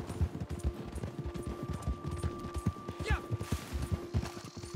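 Horse hooves in Red Dead Redemption beat in a quick, steady clip-clop rhythm, close and clear, with a faint tonal hum and a brief whinny-like sweep partway through.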